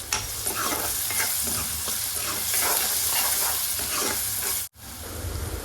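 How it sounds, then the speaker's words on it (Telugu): Chopped onions fry and sizzle in a pan for a Telugu vada curry, with steady close frying hiss and stirring scrapes, a brief cut near the end, no talk. "ముందుగా కట్ చేసి పెట్టుకున్న ఆనియన్స్ను యాడ్ చేసుకొని ఫ్రై చేసుకోవాలి"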